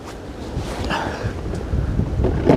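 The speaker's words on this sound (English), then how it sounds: "there's such a draft of wind coming" Gusty wind buffets the microphone outdoors on a Somerset countryside walk near Dulverton, a loud continuous rumble with shifting bursts and no talk.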